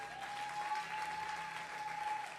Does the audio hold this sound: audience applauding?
yes